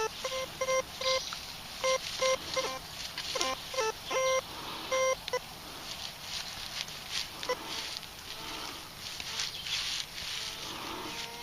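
A metal detector searching an old relic-hunting site beeps repeatedly over a buried target, a series of short clear tones in quick bursts followed by scraping and digging noise.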